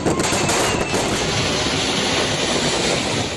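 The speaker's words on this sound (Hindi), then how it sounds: "उनके घर के बाहर काफी देर तक उनके समर्थक आतिशबाजी करते रहे।" Fireworks set off by celebrating political supporters outside a home: a dense, loud, continuous crackle of bursts with no pauses.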